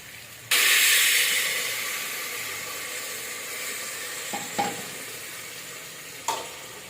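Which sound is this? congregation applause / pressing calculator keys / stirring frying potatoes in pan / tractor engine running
stirring frying potatoes in pan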